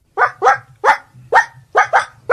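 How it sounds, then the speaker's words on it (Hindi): A dog barks six times in quick, loud, close bursts, mostly in pairs with short pauses between, over a faint low hum and without any talking. "किसका कुत्ता है ये?"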